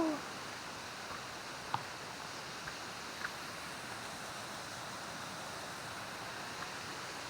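The lower part of a waterfall flows as a steady, dense wash of water noise, with a couple of faint clicks over the constant rush.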